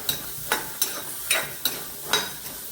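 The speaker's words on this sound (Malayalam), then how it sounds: "വെറുതെ നമുക്കിതിനെ ഒന്ന് വഴറ്റാം" Dry stirring of onions in a hot pan without oil, with about seven sharp scraping strokes at a steady pace and a faint sizzle between them.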